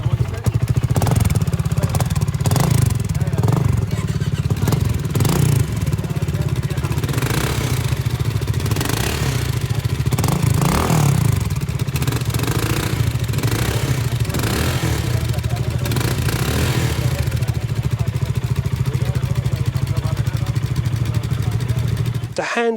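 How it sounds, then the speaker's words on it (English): A 2022 BSA Gold Star single-cylinder motorcycle runs with its exhaust baffle removed, giving a steady, fairly loud low thumping note throughout, with wind rush and occasional rises in revs. "hearing a bike here today without the baffle, it's not intrusive, it's not loud, it just has a better note about it, exhaust note."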